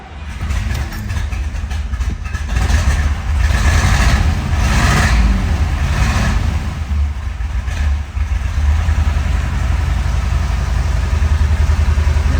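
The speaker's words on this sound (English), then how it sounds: "we get to listen to that solid lifter engine" A 1970 Chevrolet Corvette LT1 with a solid lifter engine idling, a loud, continuous low rumble with a steady mechanical chatter on top, heard close up and alone without talk.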